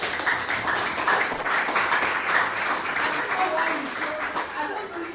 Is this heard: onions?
no